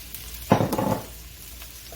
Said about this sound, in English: So we're going to put in our shallots and put in our mushrooms.